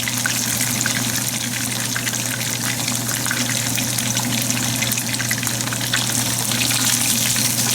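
Pieces of fish fry in hot oil for Kolkata-style chili fish, a dense, continuous crackling sizzle with fine bubbling, steady and close throughout.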